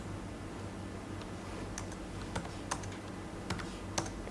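Quiet computer keyboard typing, a steady low patter of keys with several sharper individual clicks standing out as a shortcut is pressed, heard alone at close range.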